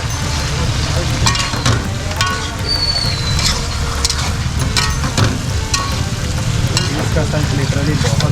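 Mutton frying with oil and salt for Ranchi-style Sakhuwa mutton chawal, a loud, steady, dense sizzle with scattered crackles running throughout, close up.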